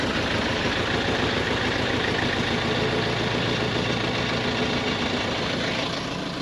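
A Toyota with a blown D4D engine pulling into a repair workshop, a loud, continuous, rough engine drone filling the whole stretch without letting up.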